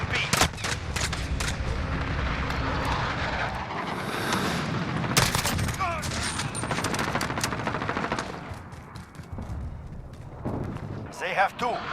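Gunfire in Call of Duty Modern Warfare, a rapid crackle of rifle and machine-gun bursts with booming impacts, loud and sustained, with radio-style voices talking amid the firefight.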